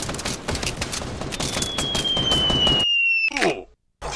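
Rapid Fortnite gunfire rattles in a dense fast burst of shots for nearly three seconds, joined by a high whistling tone, then brief gaps, with a player's voice nearby.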